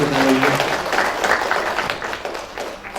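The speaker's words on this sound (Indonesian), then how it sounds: "Tepuk tangan" Audience applause at a live singing performance event, a dense burst of clapping that gradually thins out over a few seconds.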